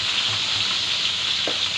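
Onions sizzling in a hot frying pan, a steady, close hiss of frying with no voices over it.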